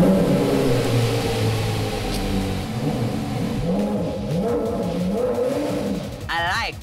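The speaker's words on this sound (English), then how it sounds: "The V10 on that car, this is the most unique engine sound." A V10 engine drones loudly up close, its pitch rising and falling in repeated revs, with a brief voice near the end.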